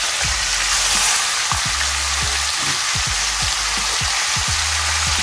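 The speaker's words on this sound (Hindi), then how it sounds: "चिकन डाल देंगे और ये तेल के अंदर अच्छे से फ्राई कर लेंगे" Chicken pieces fry in hot oil with cumin and turmeric over a low flame, a steady loud sizzle with scattered crackles and spatters and occasional stirring knocks, with no voices.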